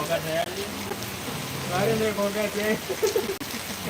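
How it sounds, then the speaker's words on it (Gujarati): Light rain falls steadily in Panthawada, a soft, even hiss that runs the whole time beneath nearby voices talking. "હાલ વરસાદ છે તે ધીમી ધારેથી વધુ રહ્યો છે"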